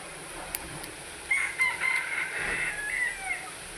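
A rooster at a Palode agricultural poultry farm crows once in a thin, drawn-out call, fairly faint and at a distance, against a steady background hiss.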